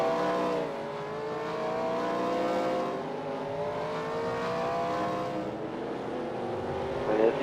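Race cars in a heat race slow onto pit road, a continuous layered engine drone with gliding pitches as several cars pass, loud and steady, rising briefly near the end, with no voices.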